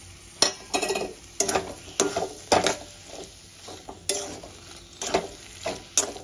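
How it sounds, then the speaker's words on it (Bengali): Fried prawns tossed with spinach in a pan, giving repeated scraping stirs of a spatula against metal at a steady pace over a soft sizzle, close and without speech. "চিংড়ি মাছটা দিয়ে পালক শাকের সঙ্গে খুব ভালো করে মিশিয়ে নেব"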